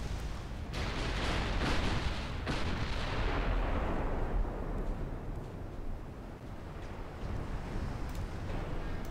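Heavy dreadnought turret guns firing in a naval battle game, a dense barrage of deep booming blasts rolling over one another loud and continuous, the first few sharp reports layered into a long thundering wash.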